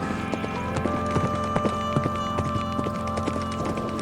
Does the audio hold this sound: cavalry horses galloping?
yes